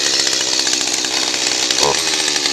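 A Stihl MS-211 chainsaw running at high revs, a loud, close, continuous buzzing roar with no talk over it.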